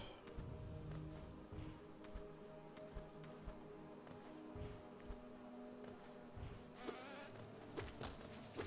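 Bees from the Hollow Knight video game buzz in soft, wavering drones with scattered clicks and ticks of game effects, fairly quiet and steady with no talking.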